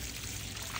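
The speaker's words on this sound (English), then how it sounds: "You can see the water's just spewing out there at quite high rate." Water gushing from the end of a 9 meter flat sullage hose with the tap on full, a short continuous splashing hiss at steady level.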